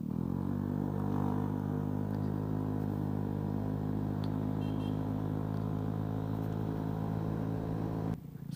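A Vespa S scooter on a test ride gives a steady, droning engine hum with a low rumble, continuous and fairly faint, until it stops abruptly near the end.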